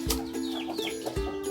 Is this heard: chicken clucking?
yes